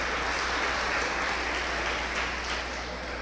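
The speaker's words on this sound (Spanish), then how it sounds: "Un fuerte aplauso para mi amiguita aquí" Applause from a church congregation at a Christmas Eve service, a dense, steady clapping that holds evenly throughout with no voices over it.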